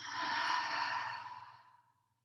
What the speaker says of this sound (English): we'll close our practice with the sound of breath